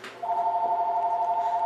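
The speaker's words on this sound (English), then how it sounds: "sorry about my phone ringing." A phone rings with a steady, sustained electronic tone that starts after a brief moment and holds at a constant level, close and fairly loud, with no talking over it.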